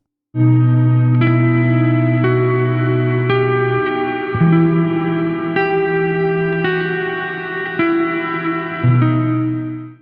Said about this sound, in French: HD Reverb.